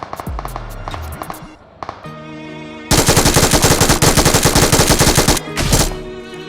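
Sustained bursts of M249 machine-gun fire in PUBG Mobile, rapid rattling rounds loud and continuous for several seconds, with shorter bursts before and after.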